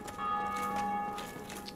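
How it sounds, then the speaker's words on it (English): A bell rings in the Dark Souls video game, sustained tones holding steady throughout at a moderate level with no talk over it. "People keep ringing that bell."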